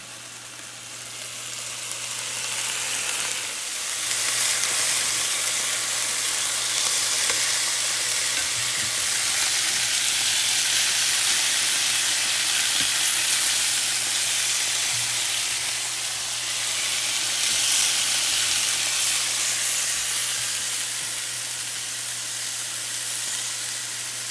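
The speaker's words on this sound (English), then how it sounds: "now in the cast iron, it gives such a beautiful sear. I'm going to sear them on each side." Stuffed chicken breasts, held with toothpicks, sear in a hot cast iron pan with a loud, continuous sizzle and hiss, swelling and easing slightly as the pieces are moved, with a low steady hum beneath.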